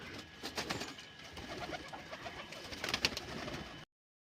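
Low, soft cooing from a flock of pigeons being let out of their loft, steady murmuring calls with a few brief flutters and chirps near the end before cutting off.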